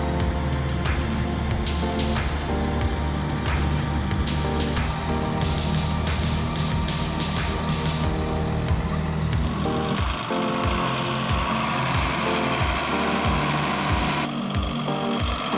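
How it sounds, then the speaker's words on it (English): A DAF CF85 truck hauling tons of heavy timber up a muddy slope, its engine roaring loud and continuous with rhythmic low throbs and strain, close up and without speech. "CF85 Part 2 roaring down the muddy slope, trying to pull a truck loaded with tons of heavy timber"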